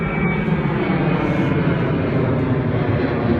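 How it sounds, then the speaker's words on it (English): Aeroplane flying overhead near Leeds and Bradford, a steady broad engine roar that holds loud and even throughout. "we're near Leeds and Bradford and we've got the aeroplane flying over"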